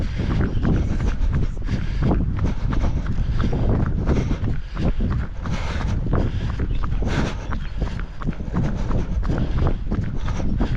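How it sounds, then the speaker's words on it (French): Strong coastal wind buffeting the microphone, loud, continuous low roaring gusts with no break throughout, heard on a run along the coast near Douarnenez. "Il y a du vent, hein."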